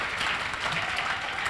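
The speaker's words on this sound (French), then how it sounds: "On va applaudir très fort." A hall audience at a gendarmerie training session applauds loudly and steadily, a thick continuous wash of clapping throughout the short burst.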